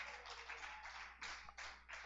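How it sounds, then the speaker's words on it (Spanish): Bursts of applause from a church congregation, rising and falling in waves, fairly even and continuous with no talking over it. "Dele un aplauso al Señor."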